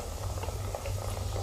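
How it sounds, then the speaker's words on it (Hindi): Cinnamon sticks, ginger garlic paste and green chillies fry in a pan for a guar ki phalli chicken dish, giving off a steady, close, dense sizzle. "इसे थोड़ी देर हमसे भून लेंगे हम, ताकि इसका कच्चापन ख़त्म हो जाए।"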